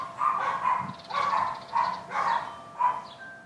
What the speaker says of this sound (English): Those are my dogs, just being dogs living their best life, barking at everything.